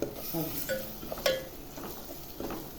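Tomatoes are stirred into a cooking pan for a spicy mackerel curry, with scattered spoon scrapes and clinks over a faint sizzle, quiet and close, in short irregular bursts.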